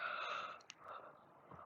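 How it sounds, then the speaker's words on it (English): A soft, breathy yawn drawn out by a person pausing during anime game play, faint and close with a gentle exhale trailing off at the end. "Had to yawn and stretch."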